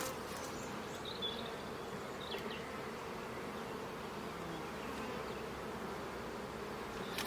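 Dense, steady swarm hum of many honeybees at an opened hive during a spring inspection, a strong colony heavy with pollen stores and brood, continuous and close with occasional single bees zipping past nearer.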